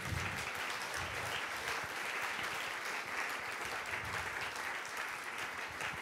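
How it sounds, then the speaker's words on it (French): Steady applause from a family gathering fills the whole stretch at an even, moderate level, dense clapping with no break and no talk over it. "Je crois que Boran, on peut t'applaudir et bravo pour ce parcours."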